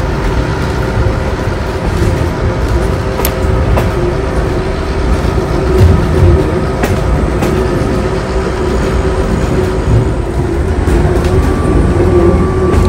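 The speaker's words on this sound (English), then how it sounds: "This is a shot of the train as we go around a 180-degree curve" The Kuranda scenic railway train rounding a sharp 180-degree curve near Cairns, a steady loud rumble of carriages with faint wheel squeals and clicks running throughout, heard from on board without talk.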